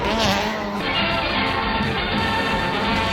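At a drifting event, a car drifts nearby with a loud, continuous roar and a sustained high-pitched tire squeal that persists across the whole stretch, with no talking.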